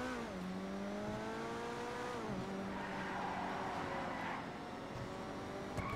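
A Corvette sports car drives in Fortnite, its engine note holding steady and dropping at gear shifts. The revving sounds continuous but fairly quiet throughout.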